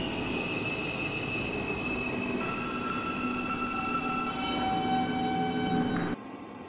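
A crosstown shuttle subway train in a Roblox rail game rolls along with a steady rumble and long, high wheel squeals, then cuts off abruptly near the end.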